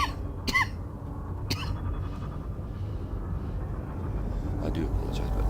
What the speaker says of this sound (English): I do apologise, but this cough is actually feels like it's killing me.